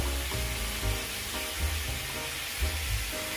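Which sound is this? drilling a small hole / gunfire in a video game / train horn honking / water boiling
water boiling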